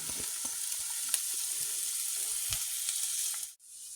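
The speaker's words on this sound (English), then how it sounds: "Going to start by frying our capsicum and our onion." Capsicum and onion sizzle and crackle loudly in a hot pan, a steady frying hiss with occasional stirring knocks, ending in a brief sharp drop.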